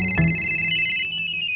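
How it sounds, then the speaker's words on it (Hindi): A telephone rings indoors in a Hindi television drama, an electronic ringtone of steady bright tones sounding clearly for about a second before cutting off. "रॉकी, फोन उठा।"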